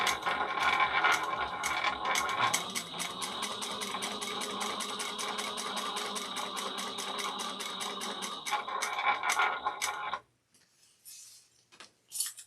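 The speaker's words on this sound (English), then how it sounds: "I'm going to stitch up one side first" A sewing machine stitches along the side of a tote bag in a fast, steady mechanical rattle of rapid needle strokes for about ten seconds, then stops, leaving a few quiet handling clicks; close up, no speech.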